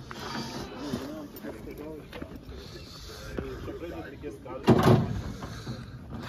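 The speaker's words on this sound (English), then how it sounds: "So you go first and I'll close the door behind us." A door on an Austrian train slides and shuts with a short, loud thud near the end, over a steady rumble of the carriage and people talking nearby.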